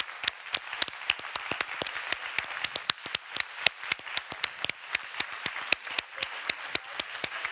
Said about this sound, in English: a round of applause for all of the protesters in Iran and around the world